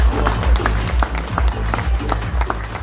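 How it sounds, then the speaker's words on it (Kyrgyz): Audience clapping in a hall at a Kyrgyz commemoration ceremony for the Soviet withdrawal from Afghanistan, loud and fairly rhythmic, with a deep pulsing thump beating under the applause. "Кол чаап коюңузчу"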